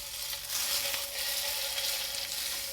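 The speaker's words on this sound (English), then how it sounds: "And now we just add some butter to the pan." Butter sizzling in a hot frying pan, a steady crackling hiss that holds evenly and close throughout with no talking over it.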